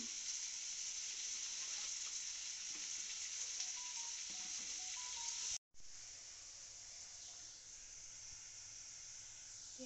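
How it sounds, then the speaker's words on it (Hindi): Onions fry with a sprinkle of garam masala in a pan, giving a continuous close sizzle and hiss. It cuts out for an instant near the middle, then resumes steadily with no voices. "प्याज मेरा भून चुका है"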